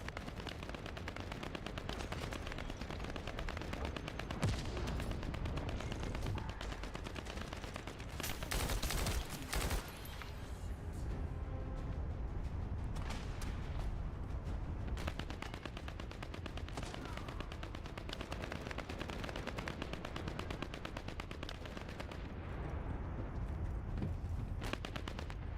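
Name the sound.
constant gunfire in video game The First Descendant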